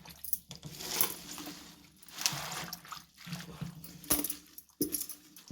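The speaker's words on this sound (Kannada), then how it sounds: "ಇನ್ನೊಂದು ಸರಿ ಲಾಸ್ಟ್ ತೊಳಿತಾ ಇದ್ದೀನಿ." Field beans and spinach are washed by hand in water in a home kitchen, with quiet sloshing, trickling and splashing bursts interspersed with small clinks, fairly close but soft.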